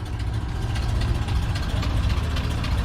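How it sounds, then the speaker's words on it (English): An all-original older car idles just after starting up at a cars and coffee meet, a steady, close, low engine rumble with no voices over it. "they sure sound different starting up, them older cars"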